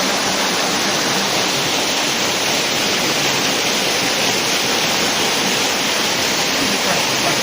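A waterfall below a zipline in Laos roars as a steady, dense rush of falling water, loud and unbroken throughout with no voices.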